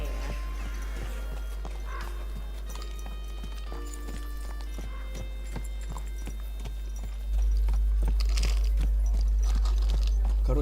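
Horse hooves clip-clop steadily in Kingdom Come: Deliverance 2, a regular walking rhythm of close, distinct hoofbeats over a constant low background hum that grows a little louder toward the end.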